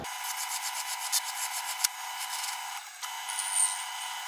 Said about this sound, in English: Put a file on that, tidy it up.